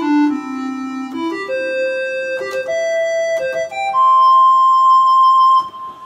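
Wersi Helios electronic organ played with a delayed vibrato, a series of clear sustained notes stepping upward, each starting steady before the wavering sets in, ending on a long held high tone, with no voices.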